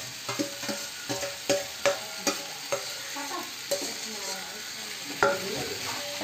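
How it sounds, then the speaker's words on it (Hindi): Potatoes, cauliflower and peas frying with spices in a pan, a steady close sizzle broken by repeated scraping knocks of a spoon stirring against the pan. "मसाले से भूनेंगे, क्योंकि मटर को फ्राई नहीं किया था तो इसको भून लेते हैं थोड़ी देर।"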